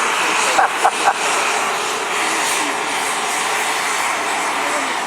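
A radio-controlled model Victor V-bomber jet flies at a large-model RC display day at Elvington, York, giving a broad, steady turbine roar that fills the air outdoors, with brief thumps near the start.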